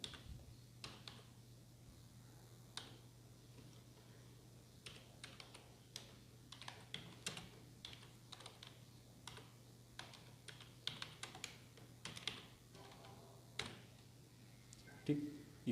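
Fingers type on a computer keyboard while entering an employee attendance sheet in MS Excel, giving irregular bursts of sharp clicks over a low steady hum, with someone talking in Hindi at times.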